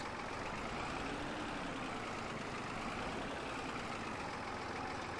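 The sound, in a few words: tractor engine running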